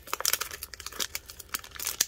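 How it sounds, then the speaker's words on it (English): A Pokemon card booster pack wrapper crinkles and tears under steady handling, with a dense run of crisp, close plastic rustles and snaps and no voices. "I need to get better at opening packs, I swear."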